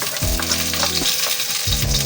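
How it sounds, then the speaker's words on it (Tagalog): Garlic sizzling loudly in hot oil in a pan, a dense close crackle with rhythmic low scraping strokes as it is stirred. "Gigisa na po natin yung ating bawang."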